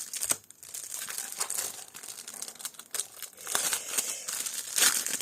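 Paper is crinkled and unwrapped while a Halloween-themed craft parcel is unboxed, with irregular close crackles and rustling bursts that come and go and no talk.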